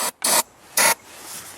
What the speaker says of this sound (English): Spray it in the carbs.